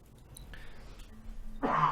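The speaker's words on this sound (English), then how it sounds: "my cough just won't leave" A person coughs and clears a dry throat at close range. The sounds start as faint scratchy rasps and end in one louder, harsh throat-clearing burst.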